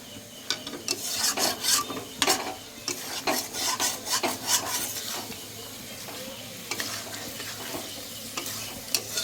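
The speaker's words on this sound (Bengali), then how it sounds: "এবার কিন্তু ভালো করে চিকেনটাকে কষাতে হবে" Chicken pieces for chicken makhani being stirred and fried in a pan on low flame, with repeated scraping strokes of a spatula over a steady soft sizzle, close by with no talking.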